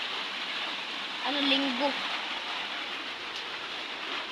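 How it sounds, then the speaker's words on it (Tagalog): Steady rain hisses continuously in the background while a person speaks a couple of words briefly over it. "Umuulan ngayon."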